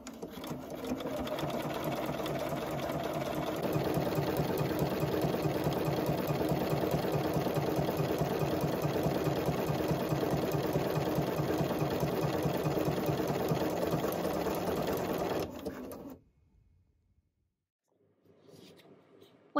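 BERNINA 7 Series sewing machine stitching a buttonhole, a steady rapid mechanical whirr running for about fifteen seconds before stopping abruptly into near silence.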